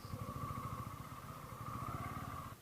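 A borrowed Bajaj Pulsar NS200 motorcycle engine runs with a steady low throbbing pulse and a faint humming tone, at fairly low level on a foggy road, with no talk, cutting off near the end.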